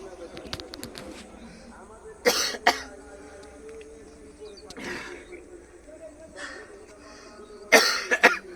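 A few harsh coughs burst out at intervals, fairly close, amid quiet background noise and faint voices.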